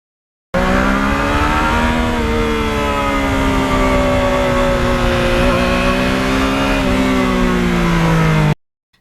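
A Yamaha MT-09 motorcycle's exhaust as the bike rides by steadily, a loud, continuous engine drone with slight shifts in pitch, cutting off abruptly.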